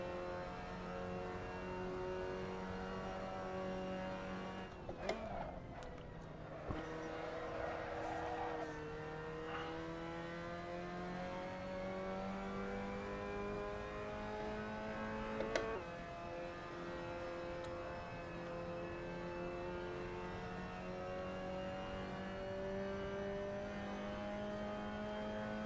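Mazda MX-5 race cars in Assetto Corsa hold a steady, buzzing engine drone, with pitch shifting through gear changes and a couple of brief sharp clicks, all fairly faint and continuous.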